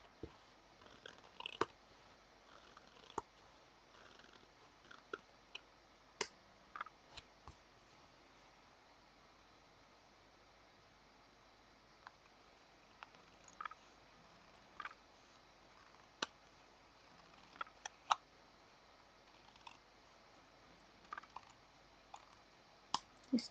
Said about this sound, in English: just line our scissors up against the side of the card.